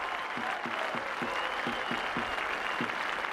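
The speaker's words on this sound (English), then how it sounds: "Big round of applause for Adrian Purtell." Steady applause from a large rugby league stadium crowd fills the air, continuous clapping throughout, with a faint rhythmic thumping underneath.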